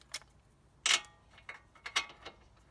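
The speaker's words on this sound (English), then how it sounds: "Next we're going to put our torque wrench on" A torque wrench tightens a CV axle nut on a Dodge Grand Caravan, Chrysler Town and Country or VW Routan minivan, giving several quiet, close ratcheting clicks spaced irregularly, with one louder click.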